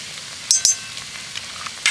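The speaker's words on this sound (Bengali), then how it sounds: "এবার মশলাটাকে ভালো করে একটু কষিয়ে নেব" Cumin and coriander powder spice mix frying in oil for a Bengali vegetarian soybean curry, heard as a short, loud close-up sizzle with a few sharp spattering pops.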